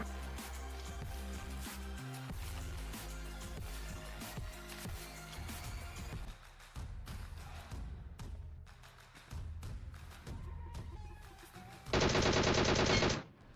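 Rapid bursts of DP machine gun fire in a mobile battle royale game, a long run of dense, steady shots followed by scattered single reports and a loud sustained burst near the end.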